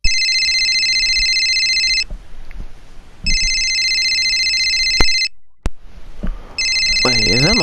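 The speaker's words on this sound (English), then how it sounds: "Wait, is that my phone ringing?" A phone ringtone rings in repeated electronic bursts, loud and close, each lasting about two seconds with short gaps, while a person talks faintly underneath.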